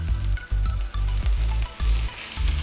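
Ginger is added to well-browned onions frying in a pan, giving a loud, close sizzle broken by repeated low thumping scrapes of stirring in an uneven rhythm, with no talking.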